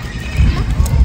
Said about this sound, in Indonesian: Itu ada kuda poni itu Geo.